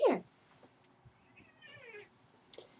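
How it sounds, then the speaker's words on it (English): A quarrelsome cat lets out one short, fairly loud meow up close, followed by quieter rustles and a faint, drawn-out whine against a low background. "This is the quarrelsome cat that has been causing the problem"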